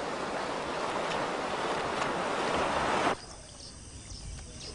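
River rapids in Namibia give a loud, steady roar of rushing whitewater that fills the first three seconds, then drops abruptly to a quieter, softer wash.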